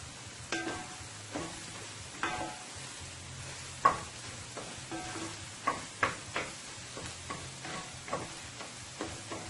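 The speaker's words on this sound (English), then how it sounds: "So my eggs is frying nicely there." Quiet, steady sizzling with scattered small pops and ticks of eggs frying in a pan, no voices.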